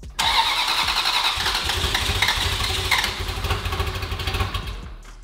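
Ferrari 360 Spider engine cranking and firing after a timing repair, catching quickly into a loud, revving idle that settles and holds, close and alone without talk.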